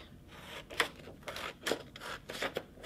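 Scissors cut strips from a sheet of blue paper, giving three quiet, short rasping snips spaced about a second apart, with no talking.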